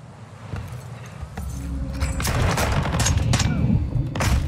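Gunfire during a hostage-rescue mission in the Call of Duty Modern Warfare II campaign, with bursts of rapid shots and sharp cracks that build in loudness over dull thuds and a faint voice underneath.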